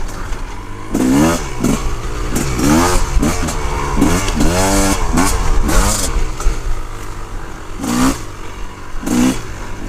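A Suzuki RMZ450 dirt bike engine revs loud and close in a run of rising and falling throttle bursts, with a brief pause before two final sharp blips.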